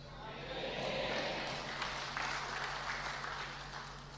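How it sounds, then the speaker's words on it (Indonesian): An audience at a religious gathering held in a church keeps up a soft, continuous round of clapping, fairly distant, with a low steady hum beneath it. "Tepuk tangan terus Pak Budi."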